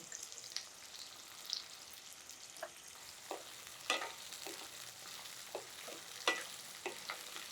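Green chillies frying in a pan for onion pulusu, a soft steady sizzle broken by occasional sharp clicks and stirring scrapes, close and fairly quiet.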